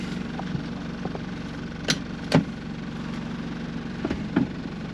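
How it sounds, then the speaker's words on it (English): A 1995 Toyota Hiace DX 4WD van's 3-liter 1KZ turbo diesel engine runs with a steady, close, low rumble and a few brief knocks or clunks, with no voices. "this is the 3-liter turbo diesel 1KZ engine"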